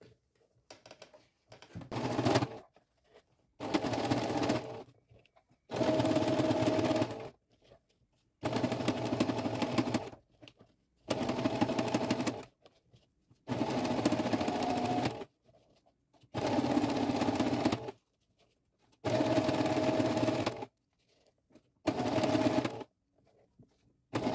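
A sewing machine stitches bias binding onto a fabric medicine holder in quick, even bursts, about nine runs of whirring separated by short silent pauses. The stitching is heard alone, fairly quiet and close.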